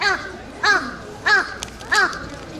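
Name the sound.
crows cawing nearby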